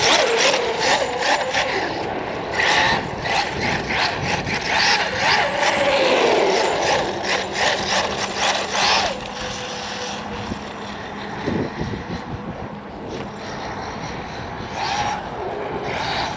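A large-scale RC four-wheel-drive buggy on big knobby tires runs with a buzzing motor whine. The pitch rises and falls as it speeds up and slows, steady and fairly loud, then eases somewhat toward the end.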